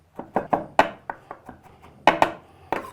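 A knife chopping cabbage ribs and stems on a wooden board in a historical cooking demonstration, about a dozen crisp, uneven chops in quick succession, close and clear with no talk.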